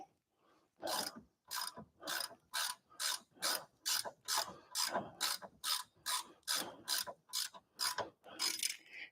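Rapid ratchet clicks loosening a bolt during a Mazda Miata steering rack install, coming in a steady run of about fifteen quick, close bursts with no talking.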